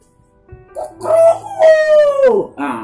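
A single loud rooster crow rings out close by, rising and then trailing off into a drawn-out falling note.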